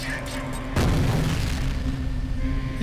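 A grenade bursts in F.E.A.R. with a single loud, booming explosion about a second in, followed by a sustained rumbling roar that carries on to the end beneath a steady background hum.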